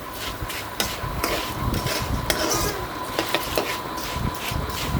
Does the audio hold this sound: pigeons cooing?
no